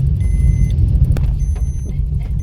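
A car rolling slowly along on the way out from a school visit, with a steady low engine rumble and road noise throughout and a few faint clicks and jingles near the vehicle.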